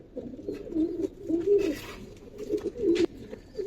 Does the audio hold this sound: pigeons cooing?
yes